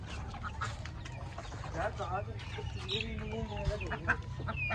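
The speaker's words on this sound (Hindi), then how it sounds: "ये असील के चूजे हैं, डक्स हैं, टर्कीज हैं, सब हैं।" A busy poultry yard with Aseel chicks, ducks and turkeys, full of overlapping clucks, chirps and quacks close by, while people talk throughout.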